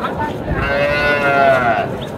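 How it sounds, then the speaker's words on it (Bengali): A Sahiwal bull calf moos once with a long, loud, drawn-out low call at a busy village cattle market in Naogaon, with crowd murmur underneath. "ষাঁড় বাচ্চা।"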